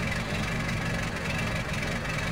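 A tractor engine in the video game Stubbs the Zombie hums and rumbles at a steady idle with a dense, continuous drone, moderately loud and unchanging throughout.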